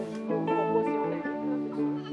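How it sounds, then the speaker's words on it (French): Several young goats of mixed breed bleating close by in quick, overlapping, wavering cries, fairly loud and continuous with only brief pauses. "Ces petites chèvres-là sont tellement drôles."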